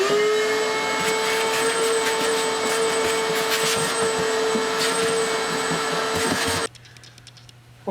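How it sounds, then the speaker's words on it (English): A loud vacuum cleaner whines steadily close by for several seconds while cleaning out a mid-century bedroom furniture piece being restored, then cuts off, leaving a quiet low hum. "it's a good time to vacuum it out"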